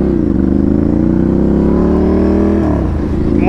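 A Ducati 796 motorcycle with a titanium exhaust pulls away from first gear, its loud, close engine note climbing steadily in pitch for a few seconds and then dropping off as the throttle eases.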